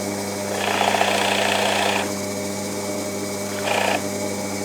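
A pillar drill fitted with a 15 mm cutter bores a small rebate, its steady grinding whine rising over a constant motor hum in two bursts, one long and one short.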